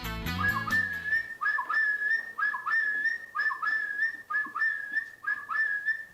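Contestants at a loon-calling contest imitate loon calls with their voices, producing a loud run of wavering, whistle-like hoots repeated about every second in a steady rhythm, with no talking.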